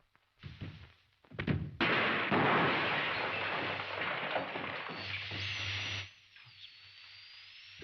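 A gunshot sound effect in an old radio serial drama comes as an abrupt loud burst, followed by a long roaring hiss and rumble that fades after several seconds, with no talking over it.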